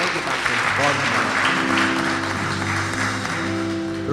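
A church congregation at a fellowship conference claps in thanks to God, a dense continuous patter of hands under sustained music with a voice over it.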